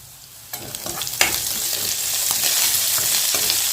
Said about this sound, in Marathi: दोन मिनिट शेंगदाणे तेलात तळून घेतले